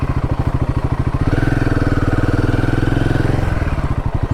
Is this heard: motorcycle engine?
yes